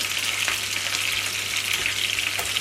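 Steady, dense sizzling of cauliflower frying in a hot pan, close and continuous with faint stirring clicks.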